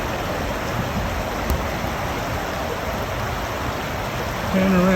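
A creek flowing outdoors, giving a steady, broadband wash of running water that stays even and continuous throughout at close range.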